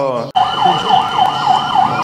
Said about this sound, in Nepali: अनि एम्बुलेन्समा अस्पताल लगिन्छ